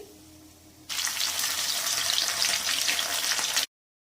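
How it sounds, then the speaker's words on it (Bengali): Pumpkin leaves fry in hot oil, and a loud, dense, steady sizzle bursts in suddenly after a quieter start, continues close up for about three seconds, then cuts off abruptly. "বাকিগুলো এইভাবে ভেজে নিচ্ছি"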